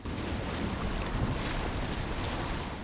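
Boat ride along the river Styx in the underworld of Assassin's Creed Odyssey, with continuous rushing water and wind-like noise that stays loud and even throughout, with no voices.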